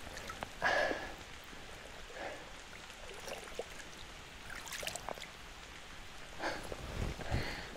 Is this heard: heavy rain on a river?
yes